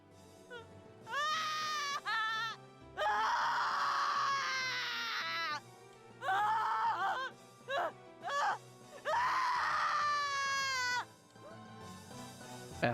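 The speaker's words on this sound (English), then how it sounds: "A heart-rending wail resounded through the church" Heart-rending wailing from a character in the video game Dies irae, repeated long tearful cries with rising and falling pitch, loud and up front, separated by short pauses.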